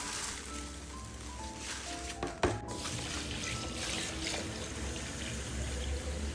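Grain washed in water for making pap and kunu, a steady close rush of sloshing water with one brief knock partway through, moderately quiet and without voices.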